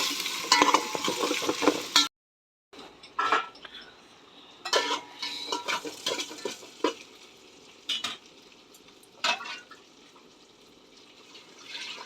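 Ginger garlic paste fries in a pan with sizzling and scraping stirs, a brief silent gap, then intermittent clinks and stirring strokes close by.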